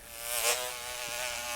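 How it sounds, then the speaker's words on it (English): A single bee buzzes close by inside a shop, a brief whining drone that swells and fades within a second or two. "Bees, they don't belong in my shop."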